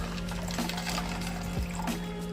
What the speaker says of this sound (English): Dump in the water.